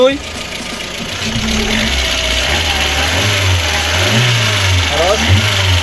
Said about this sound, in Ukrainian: ось так працює наш двигунчик.